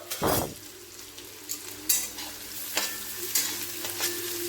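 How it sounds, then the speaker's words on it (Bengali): Chopped onion hitting well-heated oil, a sharp burst of sizzling followed by a steady fry with scattered spoon scrapes and taps against the pan, close and alone. "তেলটা খুব ভালো করে গরম হয়ে গেছে। এবার এর মধ্যে দিয়ে দেবো কুচনো পেঁয়াজ"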